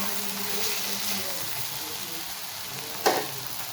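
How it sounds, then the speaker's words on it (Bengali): Cabbage and carrot sauté with a spice paste in a pan, making a soft continuous sizzle, then one sharp utensil clink near the end, with no voices. "সেই মিশ্রণটা ঢেলে ভালো করে আমি এখন কষিয়ে দিয়ে দিয়েছি বাঁধাকপি,"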